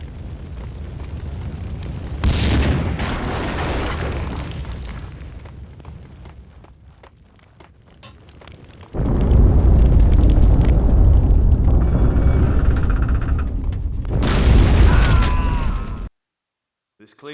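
A building blows up in the video game Max Payne 2: loud, sustained rumbling blasts with a sharp burst around two seconds, a heavy roaring surge from about nine seconds, and a final crash before sudden silence.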